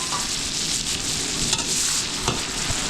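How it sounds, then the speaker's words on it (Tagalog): Garlic, onion, ginger and tomato sauté in a pan with fermented rice, a steady loud sizzle with occasional stirring scrapes close up and no talk. "So gigisa na natin yung ating buro para at least mababawas yung ating lulutuin"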